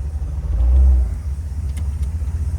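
A 1957 Ford Thunderbird driving through Naples traffic: a loud, close low engine rumble swells briefly as it pulls away, then settles into a steady throbbing drone, with no talking.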